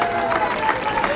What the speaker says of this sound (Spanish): Palmas de alabanza al Señor